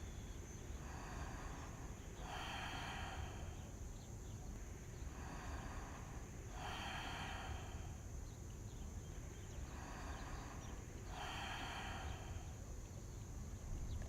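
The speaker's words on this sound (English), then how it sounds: "Let's close our eyes wherever we are and take 3 deep breaths." Three slow, deep breaths during a yoga stretch are drawn in and let out in an even rhythm, soft and close over a low steady background hum.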